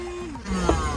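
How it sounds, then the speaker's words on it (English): A Baucatlan portable car vacuum cleaner runs with its crevice tool attached, a close, steady electric motor whine with a tonal hum that shifts pitch partway through, loud and continuous. "So now that the crevice tool is attached, I'm gonna go ahead and vacuum it up."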